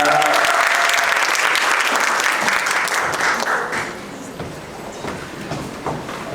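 An audience at a school's end-of-semester gathering breaks into loud, dense applause that holds for a few seconds, then thins and dies away, leaving a quieter room with faint murmurs.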